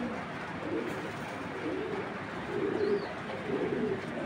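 Racer pigeon of an old Belgian bloodline cooing softly in a loft, low repeated throaty coos over a continuous murmur of other birds, fairly faint and close.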